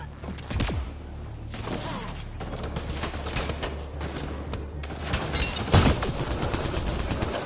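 Enemy gunfire in the video game Mass Effect Andromeda: scattered shots and short bursts crack through a steady low rumble of combat, with one heavier impact near the end, loud and close.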